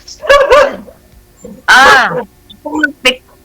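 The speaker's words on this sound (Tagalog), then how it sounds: "May aso." A dog barks a few short, sharp times between people talking close by in a quiet indoor setting.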